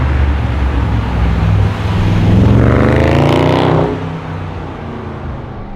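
A Bugatti Chiron Sport, built in Molsheim, revs loudly and close by. The engine note rises in a sweeping climb over a heavy low rumble, then drops back toward idle.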